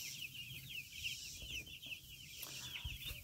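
A flock of young chickens clucking inside a mobile chicken tractor on a farm, continuous overlapping clucks and chirps at moderate distance with no talk.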